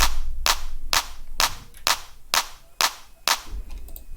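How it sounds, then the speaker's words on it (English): A short electronic clap sample in FL Studio Mobile for a future house track, firing as eight sharp, evenly spaced snaps about half a second apart, dry and punchy with no voices. "We add a little clap."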